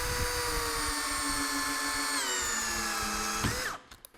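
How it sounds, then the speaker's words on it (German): A cordless drill at full power drives a plate-head screw into wood, a loud steady whine that dips in pitch under load, then cuts off near the end with a few short clicks. "also ich habe die Tellerkopfschraube mit maximaler Energie reingeballert, wie es nur ging"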